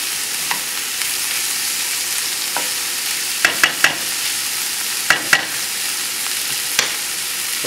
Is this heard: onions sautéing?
yes